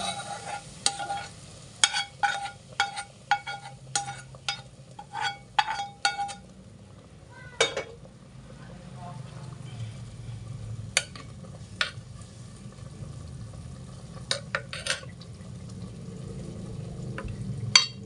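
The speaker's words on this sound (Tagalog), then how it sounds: "pwede ko nang ilagay yung aking pinaggisang bawang at sibuyas" Sautéed garlic and onion tipped into chicken adobo with liver and heart simmering in a clay pot, giving sharp spoon scrapes and clinks early, then a low steady bubbling sizzle with occasional knocks.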